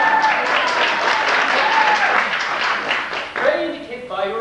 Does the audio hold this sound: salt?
no